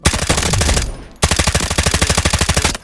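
Automatic gunfire in the mobile shooter game Delta Force, loud rapid bursts of shots in a tight rhythm, broken by a brief pause before a second long burst.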